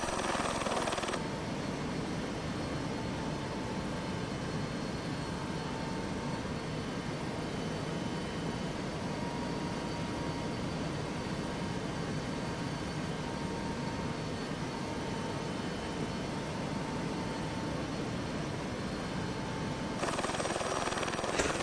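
A float-equipped helicopter flying over Lake Mead in Prepar3D drones on in a steady, unbroken whoosh of rotor and engine noise, constant in loudness throughout with no voices.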